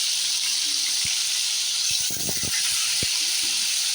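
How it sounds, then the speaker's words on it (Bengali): Marinated chicken added to oil left over from frying potatoes, sizzling with a steady close hiss, broken by a few clinks and a scraping stir. "আলু ভাজা তেলের মধ্যে ম্যারিনেট করে চিকেন রাখা এগুলো দিয়ে দিলাম"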